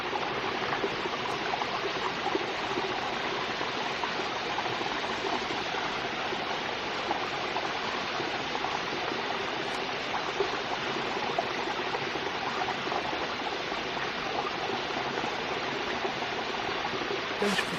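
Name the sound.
waterfall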